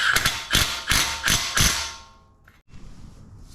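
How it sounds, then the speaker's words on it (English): An impact wrench tightens nuts in five quick rattling bursts that hammer loudly and close by, followed by a brief lull and lower mechanical noise. "Just use the impact to get it drawn up."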